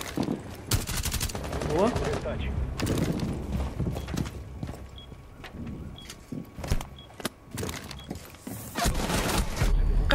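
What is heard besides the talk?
gunfire in the video game Rainbow Six Siege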